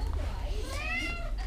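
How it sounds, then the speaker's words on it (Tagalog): A Persian cat meows indoors, one drawn-out rising and falling meow at close range, with a person talking softly around it. "Miyaw na siya ng miyaw."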